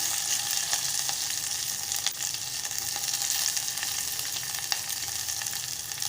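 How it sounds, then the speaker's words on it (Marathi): Garlic and green chilies fry in hot oil for Malvani buttermilk kadhi, a steady close hiss and crackle with faint stirring taps and no talk. "लसूण घालत आहे मिरच्या घालत आहे"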